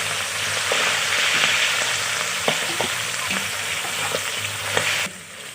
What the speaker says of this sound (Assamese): ভাজি থাকোঁতেই যাতে হাঁহৰ পৰা যিটো তেল ওলায়, সেই তেলটোৱেই যাতে সিজি থাকে।